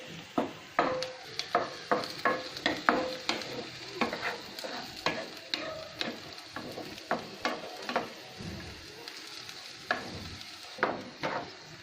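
Beans and vegetables are fried in a pan while a utensil stirs them, with soft sizzling beneath repeated scraping taps that come in an uneven rhythm, close up and with no voices.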